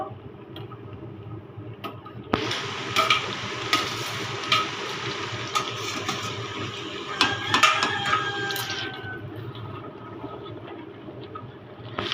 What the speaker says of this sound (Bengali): এবারে আমি আলু দিয়ে দেবো দিয়ে আমি কষাবো